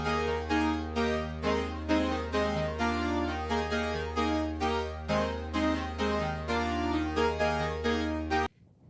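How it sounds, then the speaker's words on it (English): Very digital-sounding layered synth pad on a Korg Mark 80 setup, pulsing in steady repeated chords with a bright harmonic top and sustained low tone, alone and loud, cutting off abruptly near the end. "this song starts out on the Mark 80 with this very digital"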